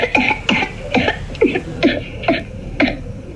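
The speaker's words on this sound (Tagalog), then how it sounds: "yung audio ng ubo pa" A series of about eight sharp coughs at a steady rhythm, each a short harsh burst, close and fairly loud with no talking.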